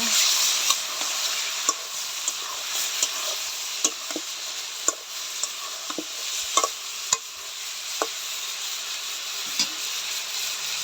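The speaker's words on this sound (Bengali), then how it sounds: "ভালো করে মশলাটা কষিয়ে নিব।" A spice paste with ground coriander and a little egg sizzles steadily in a pan while a spoon scrapes and knocks against it in irregular sharp taps, close and moderately quiet throughout.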